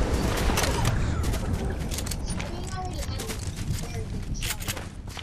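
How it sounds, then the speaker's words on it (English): Rapid bursts of gunfire from a legendary auto shotgun in a video game, dense sharp blasts and clatter in the opening seconds, then thinning into scattered shots and mechanical sounds, with people talking over it. "it was a legendary auto shotgun"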